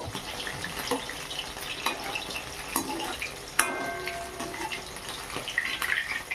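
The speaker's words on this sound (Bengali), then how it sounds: "একবারে বেশি দিচ্ছি না কম কম করে ভেজে নেব" Snail fritters fry in hot oil with a soft, continuous sizzle and crackle, punctuated by occasional sharp pops and clinks of a utensil nearby.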